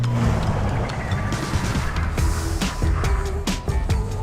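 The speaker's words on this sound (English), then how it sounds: "Hit the brakes." An RV van braking firmly from about 30 km/h, its engine and road rumble continuous and close, with a few soft knocks near the end and no one speaking.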